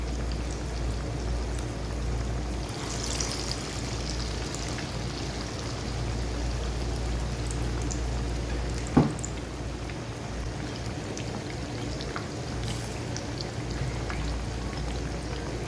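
Fish frying in very hot oil in a pan over a low flame, a steady, even sizzle and crackle continuing throughout with one brief sharper pop midway.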